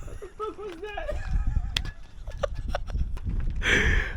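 A boy at the old horse stable in Megiddo imitates a horse with his voice, making a wavering, quavering whinny-like neigh. Other voices and outdoor bustle follow right after.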